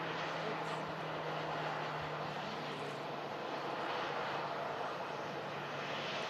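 A Ryanair airliner comes in to land, a continuous broadband engine rush at moderate level that holds steady from start to finish, with no voices.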